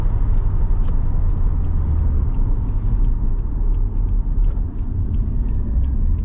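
A Toyota Supra MK4 engine roars loud and close at full throttle with a deep rumble, holding hard and steady as the car pulls, with faint ticking clicks above the drone.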